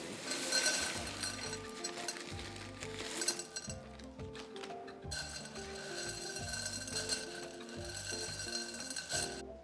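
Clay pebble growing medium is mixed by hand with soil for an Uplift planter, producing repeated rattling clinks and gritty shuffles over a steady low background hum.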